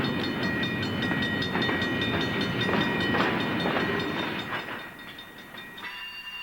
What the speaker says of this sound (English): The locomotives in these scenes from Lompoc are all GP38-2s.